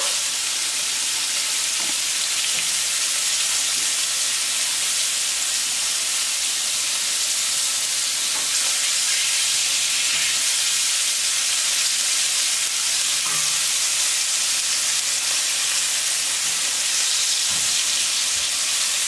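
Pork chops sizzling steadily in a hot pan after being flipped, a loud, even frying hiss that continues unbroken, with faint crackles and no talk.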